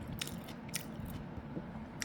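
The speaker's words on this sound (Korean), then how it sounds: "당근찜 먹어봅니다." Crunchy steamed carrot being bitten and chewed close to the mic, with a few crisp crunches standing out over soft, steady mastication noise and no talking.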